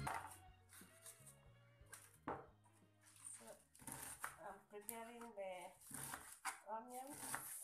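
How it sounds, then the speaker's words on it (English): A knife chops sukuma greens on a board while ugali is being made, giving a run of light, sharp taps and clinks mixed in with ongoing talking. "I'm cutting skuma."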